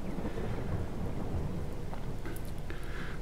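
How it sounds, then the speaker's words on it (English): Thunderstorm in Farming Simulator 22: a continuous low rumble of thunder under steady rain hiss, with a few brief brighter crackles toward the end and no voices. "you would have noticed that we are in the midst of a thunderstorm"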